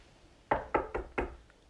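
A knock at a door on a snowy night, heard as four sharp, evenly spaced raps close by, followed by a faint fifth tap, against a quiet background.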